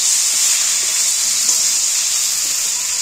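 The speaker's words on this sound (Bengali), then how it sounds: "এবার আমি গোটা জিনিসটাকেই, সম্পূর্ণ জিনিসটাকে ভালো করে কষিয়ে নেব।" Taro stolons and shrimp stir-fried together in a pan, a loud, continuous sizzle and fry hiss with light stirring underneath, close and steady throughout.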